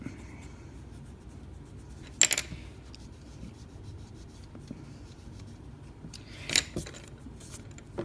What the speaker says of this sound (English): I want to erase this part.